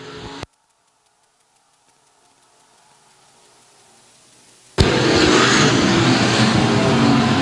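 B-Mod race cars at a dirt track roar past loudly after a brief gap of near silence, with engines revving hard as they race to the checkered flag.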